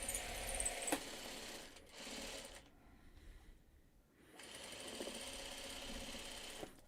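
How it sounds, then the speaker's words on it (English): A sewing machine stitches steadily while running over a small pin, a close continuous whirring hum that pauses briefly in the middle before starting again, with no speech. "And I just sewed right over a pin."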